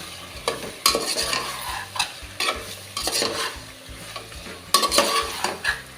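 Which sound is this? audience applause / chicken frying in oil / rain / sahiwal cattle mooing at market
chicken frying in oil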